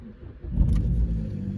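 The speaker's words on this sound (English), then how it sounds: "car started." A Vauxhall Astra J engine turns over and catches, settling into a steady low idle rumble, close by and alone.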